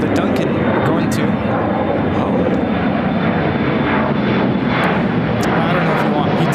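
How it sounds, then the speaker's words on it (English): Embraer E175 jet of Delta Connection, operated by SkyWest Airlines, taking off to Minneapolis from ORD: a loud, sustained engine roar with a faint high whine, steady throughout, with brief clicks and possible voices under the noise. "This is Delta Connection, operated by Skywest Airlines, 4215, taking off to Minneapolis on the E175."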